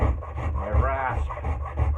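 A steel rasp files a wooden axe handle while the head is being hung, giving steady scraping strokes that run almost continuously and sound close and fairly loud, with a faint voice in the background.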